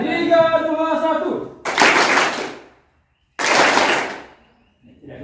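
A group claps together in a hand-clapping concentration game at a parish retreat, two loud bursts of massed clapping separated by silence, after a short stretch of talking.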